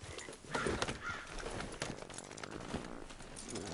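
Quick horse hoofbeats clip-clop at a trot in the video game Red Dead Redemption 2, over a busy ambient background, with soft rustling and a faint bird call.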